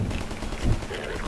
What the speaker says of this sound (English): Someone's getting shot at.